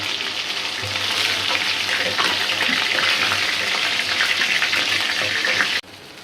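Fish with ginger and garlic fries in a pan with a loud, steady sizzle and bubbling spatter close by, running without a break before it drops off abruptly near the end.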